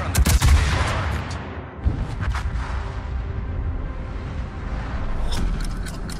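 Naval guns fire on a target in the World of Warships game: loud booming salvos at the start, then a dense rumbling barrage of distant shots and explosions rolling on under a continuous low roar.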